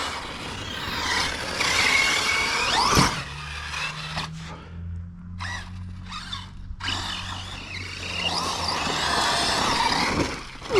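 A Losi Super Lasernut RC car rips around on skinny tires, its electric motor whining up and down in rising and falling surges with tire scrubbing and skids, a brief lull midway, fairly close.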